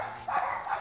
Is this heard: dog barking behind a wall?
yes